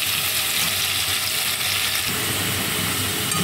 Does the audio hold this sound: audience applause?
no